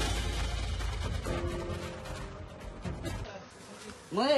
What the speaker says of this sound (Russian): Видите, мух?